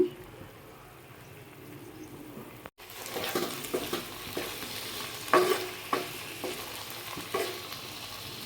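Brinjal frying in hot oil gives a steady close sizzle, with sharper scraping knocks from stirring that land every second or so after a brief pause near the start.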